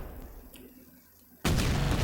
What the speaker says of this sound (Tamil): அந்த குண்டை தூக்கி போடுவோம்.